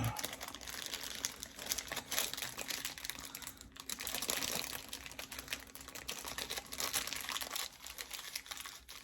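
Crinkling and cutting noises as a plastic package of gun-cleaning patches is opened for an Umarex SA 10 air rifle, with continuous close rustling throughout.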